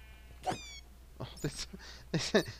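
A Minecraft bat gives sad, squeaky cries as it dies, a few short high-pitched chirps and squeals spread out over a couple of seconds, fairly faint.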